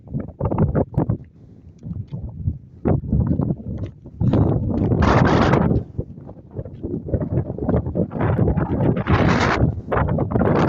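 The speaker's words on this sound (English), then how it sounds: "She's a wee bit breezy." Strong wind buffeting the microphone on a coastal walking path, loud irregular gusts and rumbling bursts that rise and fall throughout, with footsteps or rustle faintly underneath and no speech.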